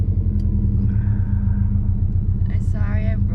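Low, steady engine rumble from a Subaru STI idling and rolling back on a hill with too little throttle, continuous and close, with a voice and other talk over it near the end.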